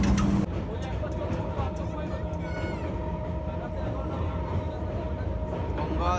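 An Indian local train rumbles into a station, with a continuous loud rolling drone and metallic squeals. A faint hubbub of people carries under the noise.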